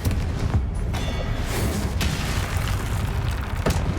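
Confringo blasting spell in Hogwarts Legacy, with heavy booming explosions and rumbling impacts layered with sharp bursts amid ongoing combat noise, loud and dense throughout.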